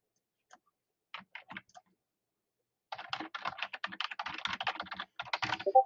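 A computer keyboard clatters as a username is typed, a few isolated keystrokes first, then a fast continuous burst of close, crisp clicks.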